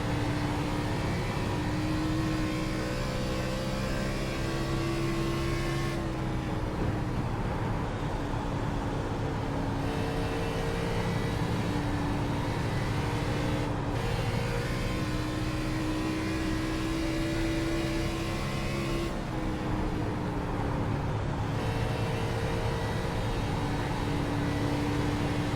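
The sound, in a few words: car engine racing in a video game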